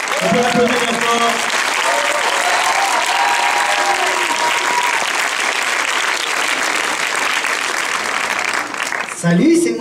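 Sustained applause from an audience at a French voice cast event for The Lion King in Paris fills the room, with some crowd noise and voices mixed in, ending in a brief louder burst.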